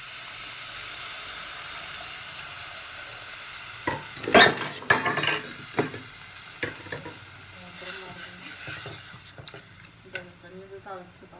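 Tamarind water is poured into a simmering curry of small sardines in a pan, setting off a sudden burst of sizzling and hissing steam that settles into bubbling and stirring clatter.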